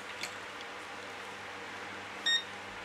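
A continuity tester gives one short, high electronic beep near the end while checking a power lead, after near-silent background noise.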